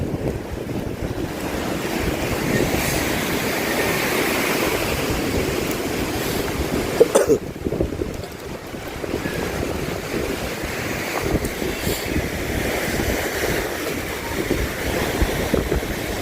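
Typhoon wind and rain battering outdoors in a rural setting, a continuous roaring rush with gusting surges and heavy buffeting against the microphone, a brief sharp knock midway, no voices.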